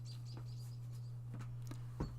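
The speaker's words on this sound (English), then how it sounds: "Yeah, you hear birds" Birds chirping outside an open window on a hot spring day, faint scattered tweets over a steady low hum indoors.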